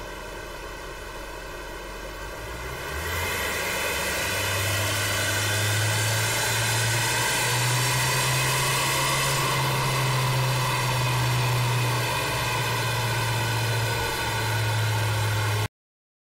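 An Isuzu D-Max 3.0 4JJ3 turbo-diesel engine with a performance chip tune runs on a dyno, idling low at first and then rising to a loud, sustained drone with a steady hum and slight pitch shifts, alone with no voices.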